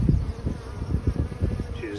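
A honeybee buzzing close by, a low, wavering drone that pulses in and out as it moves around, steady and fairly loud with no talking over it.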